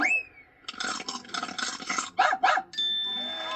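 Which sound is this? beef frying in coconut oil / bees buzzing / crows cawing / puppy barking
puppy barking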